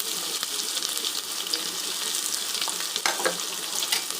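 Two large onions frying in oil with rock salt for an Ambur-style kuska tomato biryani: a steady, close, hissing sizzle runs throughout, with a few sharp stirring scrapes near the end.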